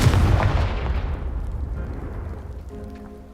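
A Confringo blasting spell detonating in a wizarding-school game, one loud, close explosion whose rumbling boom and debris fade out over about three seconds.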